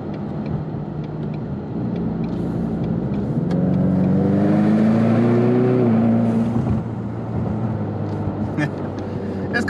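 An EcoBoost car engine rises in pitch as it accelerates while driving in cold weather, a steady interior rumble swelling for a few seconds before easing off, with a person speaking over it.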